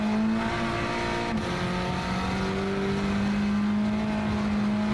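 Sim race car engine from a racing game played on a Fanatec GT DD Pro wheelbase, holding a loud sustained note with brief shifts in pitch between gears, continuous throughout.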